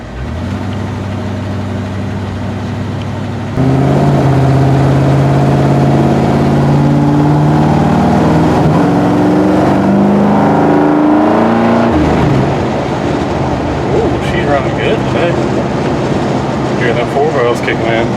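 A Chevrolet squarebody C25 truck with a 454 engine rumbles loud and close as it pulls away on a short test drive, its deep drone rising in pitch under acceleration before easing back amid faint clicks.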